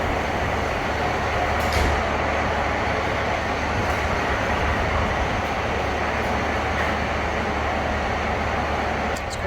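Steady rumble of a train carriage at Pembroke Dock station, a continuous low-pitched drone with faint higher squeaks, heard close and even throughout.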